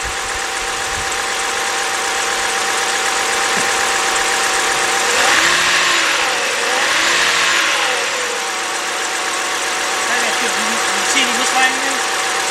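A 2011 BMW 328i 3.0 engine with a cylinder 2 misfire runs steadily, then revs up briefly and falls back, its note uneven and rough, with a voice talking over it.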